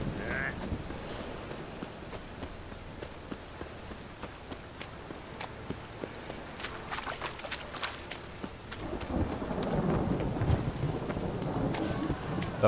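A thunderstorm with rain in The Witcher 3: Wild Hunt builds from a quieter patter with faint thunder into a louder, denser downpour and rumble toward the end, mixed with clip-clopping hooves.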